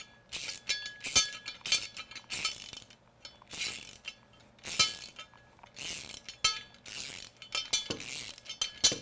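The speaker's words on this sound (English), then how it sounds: "a 3/8 socket to drive the bolt in" Ratchet wrench with a 3/8 socket driving a bolt in, giving quick bursts of metallic clicking in an irregular rhythm, close and fairly quiet.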